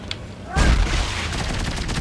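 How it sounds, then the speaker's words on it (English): Gunfire in Dead Space 3, a sudden loud burst of shots that breaks in after a brief quiet moment, followed by continued rattling fire and echoing noise. "Who's shooting at us?"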